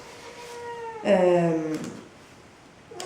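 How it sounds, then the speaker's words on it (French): A house cat meows once, a clear, drawn-out call close by, then a shorter faint mew follows; indoors, with no talking during the cries. "vous allez avoir le chat qui miaule"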